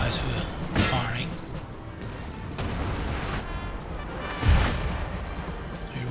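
Musket volleys and artillery booms from a Napoleon Total War battle rumble across a busy battlefield soundscape, with two heavier thumps standing out among continuous crackling fire, all beneath a voice talking.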